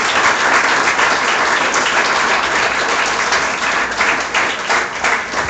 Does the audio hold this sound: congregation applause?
yes